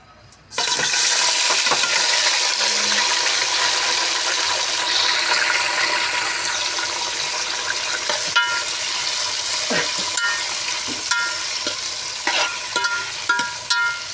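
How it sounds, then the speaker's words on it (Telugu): Tomatoes dropped into well-heated oil sizzle and spit steadily at close range, a continuous crackling fry with occasional stirring clatter and pops, no voices. "ఆ నూనెలోనే టమాటాలు వేసేస్తున్నా."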